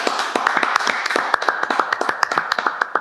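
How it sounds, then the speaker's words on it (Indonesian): A small group clapping in a quick, uneven rhythm, sharp hand claps close by continuing steadily throughout. "Tepuk tangan dulu."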